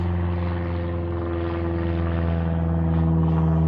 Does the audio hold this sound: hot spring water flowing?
no